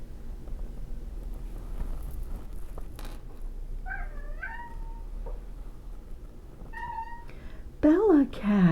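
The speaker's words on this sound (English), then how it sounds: "I have the most talkative cat in the world." A talkative house cat meows several times indoors, short, clear calls in the middle and a louder, drawn-out meow near the end, over a quiet room background.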